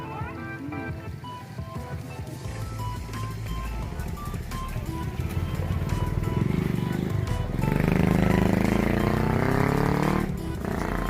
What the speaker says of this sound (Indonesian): Awas, awas, motor deh.